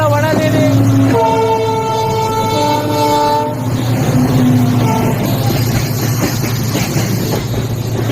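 A train passes loudly and at high speed near Dudhsagar waterfalls, with a sustained horn blast over a steady rumbling roar of the rolling cars.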